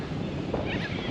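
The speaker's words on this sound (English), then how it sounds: "Very windy." Wind blowing hard outdoors, a steady broadband roar with gusty rumble buffeting the microphone throughout, no voices.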